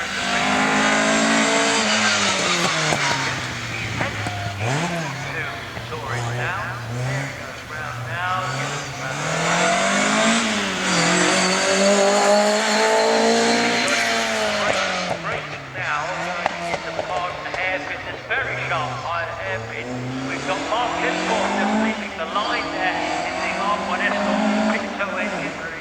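Rally car at a hillclimb event on a course, its engine roaring loudly and continuously with repeated rising and falling revs as it accelerates and brakes through bends, with talk over it.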